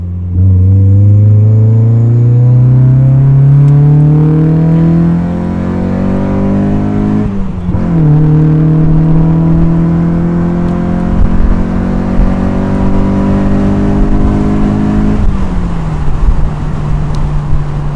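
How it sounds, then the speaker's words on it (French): A Mazda MX-5 NA roadster pulls onto a merge lane at full throttle, its engine revving loud and close through the gears, pitch climbing, dropping at each shift and climbing again, with heavy road rumble underneath. "Là on est sur la petite voie d'insertion et on va mettre pied plancher"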